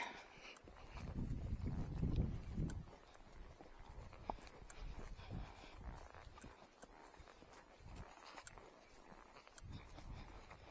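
A horse's hooves clop and shuffle through a shallow puddle, pawing with uneven splashing, a heavier burst early on, then irregular steps and small splashes continuing nearby.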